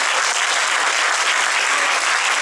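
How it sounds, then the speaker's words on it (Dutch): Crowd at a youth council election event giving loud, dense applause for the candidates, a continuous even roar of clapping hands with no pause or voice. "En daarvoor wil ik even een heel groot applaus voor alle kandidaten die daar met volle spanning zitten te wachten."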